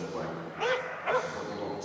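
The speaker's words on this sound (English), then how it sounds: "a couple of barks" A dog barks twice during a Crufts agility jumping run, two short yips in quick succession over steady crowd and arena noise, with a commentator's voice running underneath.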